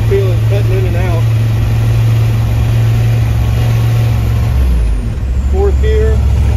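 A diesel truck with a fuel injection pump fault accelerating hard, a loud constant low engine drone from inside the cab that dips briefly near the end, with someone talking over it.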